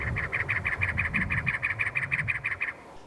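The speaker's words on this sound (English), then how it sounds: "we saw a couple of cactus wrens coming into here" A cactus wren gives a rapid series of harsh, even chattering calls, about a dozen in quick rhythm, fairly close with faint background noise, in the desert.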